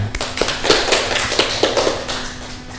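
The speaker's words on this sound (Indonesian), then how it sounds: "Ya, betul ya, tepuk tangan." A short burst of scattered clapping from a classroom group, uneven and moderately loud, fading toward the end.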